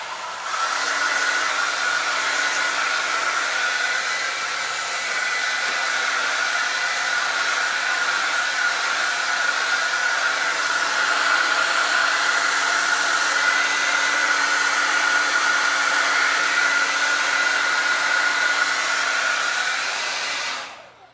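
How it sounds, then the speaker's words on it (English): A hair dryer blows steadily and loudly for about twenty seconds, drying paint, with a constant whine over its rushing air, then cuts off at the end. "So we're going to hit this with the blow dryer."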